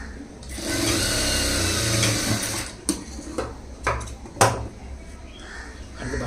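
Sewing machine stitching a dart on a lined stone-model blouse, running steadily for about two seconds, then stopping and starting in short bursts with clicks and handling knocks between runs.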